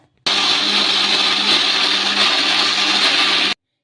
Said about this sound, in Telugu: మూత పెట్టేసుకొని మిక్సీ అయితే పట్టేసుకుందాం